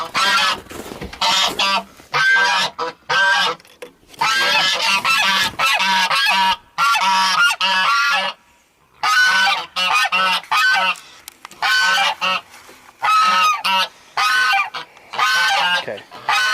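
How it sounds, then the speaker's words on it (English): Geese honk loudly and repeatedly close by, in choppy bursts of raucous calls separated by short silences. "geese are trying to talk over me here"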